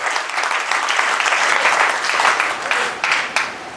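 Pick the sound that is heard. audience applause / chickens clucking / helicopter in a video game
audience applause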